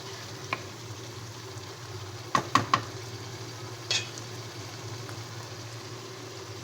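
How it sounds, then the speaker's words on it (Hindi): Potatoes get stirred into a pot of simmering green beans and mince, a few quick scraping clatters over a low steady bubbling hiss, fairly quiet. "अब हम इसमें आलू भी शामिल कर देंगे, उनको अच्छे से चला लेंगे।"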